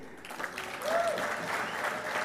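Audience applause fills a World Environment Day celebration hall, a steady wash of many hands clapping that swells slightly midway and holds at moderate loudness, with a brief voice or whistle-like tone rising over it.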